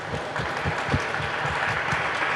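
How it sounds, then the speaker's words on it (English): Audience applause at a community listening session on internet access, a brief, loud burst of clapping from a roomful of people, continuous and unbroken. "round of applause, please."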